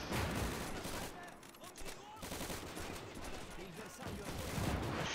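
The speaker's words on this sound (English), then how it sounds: "That's some Italian machine gun." An Italian machine gun fires in the Gates of Hell: Ostfront game, at the defence of Fort Pilastrino in Libya in 1941. Dense, sustained bursts of automatic fire go on throughout, and a voice is heard at times under the shooting.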